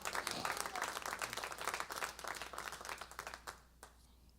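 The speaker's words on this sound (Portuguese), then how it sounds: "Aplauda ao Senhor." A church congregation applauds during a sermon, steady dense clapping from many hands that fills the room for several seconds before tapering off near the end.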